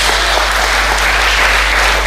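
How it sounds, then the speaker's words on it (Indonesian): A church congregation bursts into loud, sustained applause and cheering for Jesus, a thick, steady roar of clapping hands and raised voices throughout. "Berikan sorak-sorai buat Tuhan Yesus"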